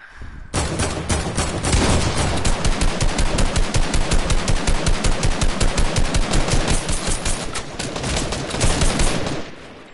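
Sustained automatic gunfire in a multiplayer shooter game, a loud, rapid, steady stream of shots lasting several seconds with only brief shifts in intensity, with no voices over it.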